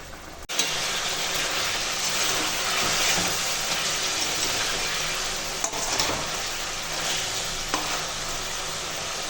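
Fried fish dropped into a sizzling fish curry in a pan, a loud continuous sizzle with a few sharp clatters and stirring scrapes near the start and midway, no voices.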